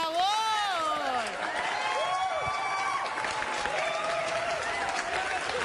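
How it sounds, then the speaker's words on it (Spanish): A studio audience at a TV gossip program applauds, steady clapping that runs throughout, overlaid at first by excited whooping and sweeping vocal shouts, with voices carrying on above the applause. "aplausos"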